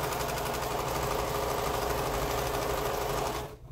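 A sewing machine runs steadily, stitching quilt pieces together in one continuous fast whirring, rattling burst that stops abruptly at the end.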